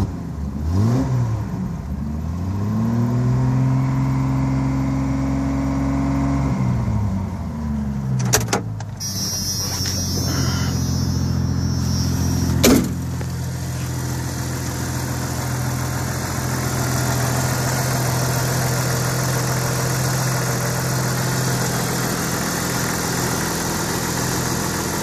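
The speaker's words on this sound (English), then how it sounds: "I'm gonna start the Jeep up here. Starts up just fine every time." A 1994 Jeep Wrangler engine cranks with a brief rising starter whine, catches and settles into a steady, close, loud idle that runs on alone.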